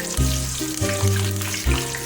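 Oil sizzles loudly as fish fries in a pan, a continuous crackling hiss with low bubbling surges, close up and without speech.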